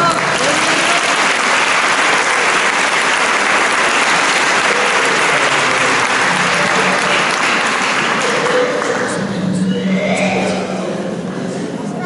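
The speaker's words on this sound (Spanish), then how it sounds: "Aplausos." Audience applause at a religious healing gathering in Chile, sustained and loud for about nine seconds, with faint whistles or cries mixed in, then fading toward the end as a voice begins speaking.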